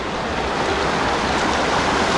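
River water rushing steadily over rocks near an abandoned mining town in the ranges, a broad continuous wash of flowing water filling the short moment with no voices.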